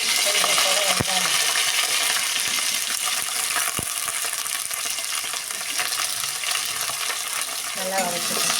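Onions sauté in hot oil with fennel, cinnamon, cardamom, cloves and curry leaves, giving a steady close sizzle with scattered clinks and scrapes from a spoon against the pan throughout.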